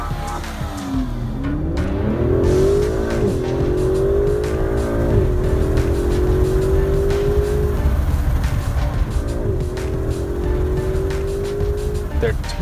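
An Aston Martin DB11 sports car drives past in a steady loud engine drone, rising in pitch through several gear changes as it accelerates, with a voice talking over it.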